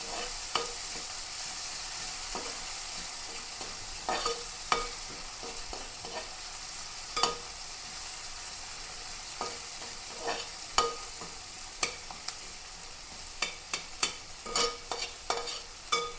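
Chopped ginger, garlic and onion sautéing in a pan, a soft continuous sizzle broken by scattered sharp clicks of a spatula against the pan, growing busier toward the end, no voices.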